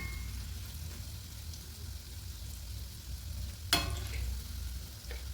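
Khoa gulab jamun fry in hot oil while being turned, a continuous soft sizzle and bubbling with a brief sharp clink of the utensil partway through, no talking.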